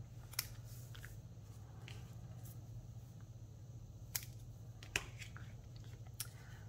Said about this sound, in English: just cut a little bit off the bottom of this.